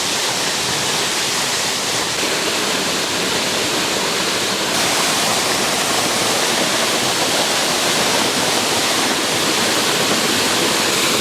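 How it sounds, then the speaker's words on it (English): A fern-lined waterfall in the Arkansas Ozark National Forest roars as a loud, steady broadband rush of falling water, constant throughout with no voices over it. "It's a stunning waterfall with the ferns."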